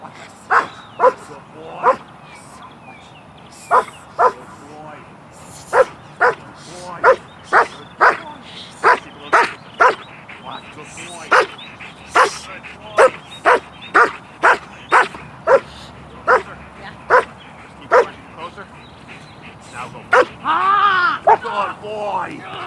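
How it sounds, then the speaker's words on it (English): A dog barks aggressively at a person during a training session, delivering loud, sharp barks in a steady, repeated rhythm over about twenty seconds, nearby and clear. "We want to see an immediate barking response, aggressive response towards without the equipment on."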